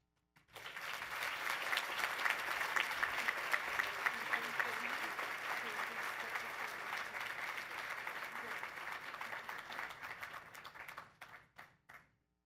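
An audience at the Poinsettia Awards ceremony breaks into sustained applause for the Citizen of the Year, swelling quickly to a full roar of clapping and tapering off near the end.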